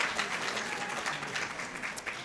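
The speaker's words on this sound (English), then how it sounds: "please just give him a round of applause" A luncheon audience applauds a volunteer at a recognition event, giving dense, steady clapping throughout with no one talking over it.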